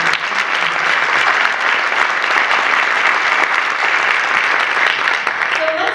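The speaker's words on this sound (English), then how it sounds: "So a round of applause for them." A crowd gives loud, sustained applause for a group of honorees, a dense even roar of many hands clapping for about six seconds with no letup.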